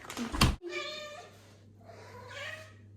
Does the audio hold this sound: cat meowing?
yes